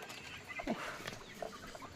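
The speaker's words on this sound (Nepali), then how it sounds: "अनि म चाहिँ कुखुरालाई चारो दिँदैछु।" Village farm chickens cluck softly and intermittently while being given their morning feed, a few brief calls standing out against quiet outdoor background.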